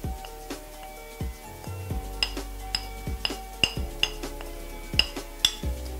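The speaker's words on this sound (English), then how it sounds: "Now you just mix everything together until it's just a smooth, really liquid-like dough." A utensil clinks and scrapes against a mug while mug cake batter of oil, milk and baking powder is stirred, in a steady rhythm of close, bright taps and knocks.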